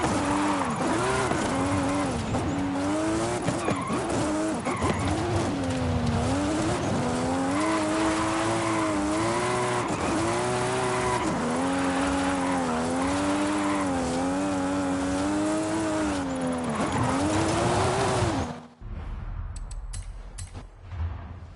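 A modified 2020 Toyota GR Supra by Papadakis Racing drifts in Forza Horizon 5, its engine roaring loud and steady with wavering pitch and tire squeal, then cutting off abruptly near the end.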